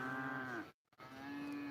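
Cows on an Irish farm moo twice, two long close lowing calls separated by a brief silent gap.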